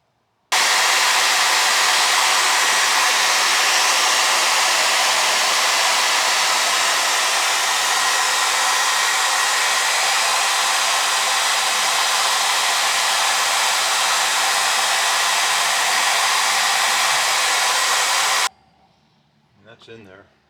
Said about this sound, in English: You want to heat it up? you think a blow dryer?